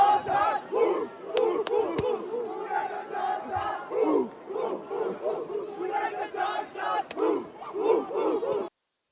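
Live wrestling event crowd chanting for Braun Breaker, a large arena audience shouting in rhythmic, repeated bursts that rise and fall across the whole stretch, loud and unified.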